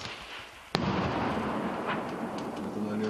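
An RPG grenade launcher fires in a combat zone, one sharp distant blast followed by a rumbling tail over steady background noise.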